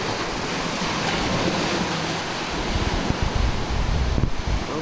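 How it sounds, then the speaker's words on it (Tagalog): Loud, continuous roar of sea waves mixed with gusty wind buffeting the microphone, with rumbling surges toward the end. "Dito kami sa dagat."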